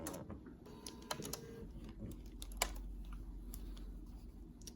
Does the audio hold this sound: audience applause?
no